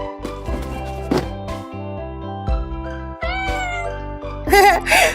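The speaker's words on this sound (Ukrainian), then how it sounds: "Це ж кошеня." A small, high-pitched kitten mew rises near the end over a backdrop of steady music and thumping sounds in a children's cartoon.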